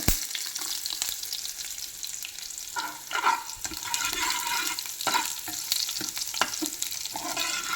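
Onions frying in ghee with crackling mustard seeds and fenugreek, a continuous close sizzle broken by stirring scrapes and small pops.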